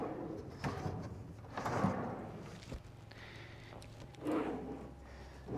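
Kitchen drawers on self-closing slides in a Chevy Express van glide and settle in a few soft, separate bursts, quiet and close, with a near-silent room between them.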